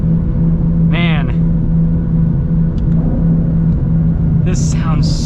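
A 2022 Ford Shelby GT500 engine rumbles steadily from inside the cabin while driving, a low droning hum under road noise with a brief rising whine and a few faint clicks, no talk.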